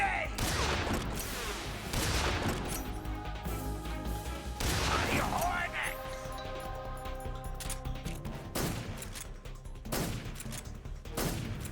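Shotgun blasts in Metal Gear Solid 3: Snake Eater fire in heavy, loud bursts at irregular intervals, several booming shots with ringing tails over continuous game sound.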